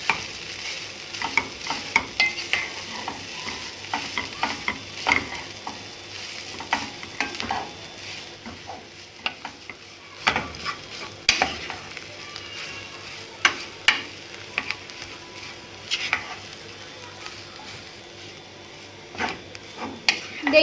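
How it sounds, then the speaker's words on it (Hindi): Mashed boiled potatoes for samosa filling are stirred in a pan, with repeated spoon scrapes and knocks against the metal over a low sizzle, close and irregular. "अब हम इसमें 3 बॉईल किए हुए आलू डाल देंगे जिसको मैंने मैश कर लिया था और इसे हम मिक्स कर लेंगे"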